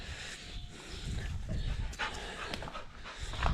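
A dog pants steadily and close by, eager for petting, in a workshop during a dual power solenoid repair job, with breathy rhythmic huffs over a noisy background.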